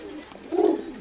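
A Rampuri pigeon gives a single short, low coo up close, rising briefly out of quiet background.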